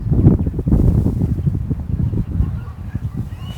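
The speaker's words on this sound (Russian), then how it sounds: "Сразу такой ветерок пошел." Wind blows outdoors in a steady low rumble with gusts buffeting the microphone, moderately loud and without speech.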